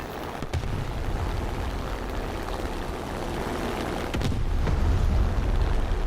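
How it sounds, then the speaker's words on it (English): A bomb is released from an aircraft in the naval game American Coastal, with a sharp crack early on, a low engine rumble, and then a heavier explosion swelling near the end. "that's going to be bomb away"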